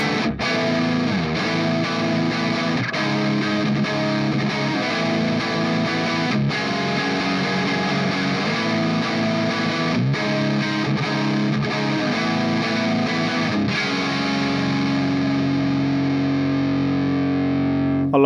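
Electric guitar on the neck pickup runs through a NUX MG-30 distortion, playing a continuous, thick overdriven riff with dense sustained chords and occasional accented strums, loud and close with no talking.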